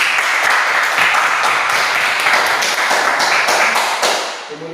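Sustained applause from a classroom group, dense rapid clapping throughout, close and loud, fading slightly at the very end.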